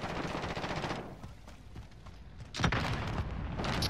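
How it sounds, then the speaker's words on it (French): Rocket launcher fire in a Call of Duty match, a dense burst of loud blasts, then a quieter lull, then another sharp loud blast and ongoing clatter, with no one talking. "cette tire relance-roquette"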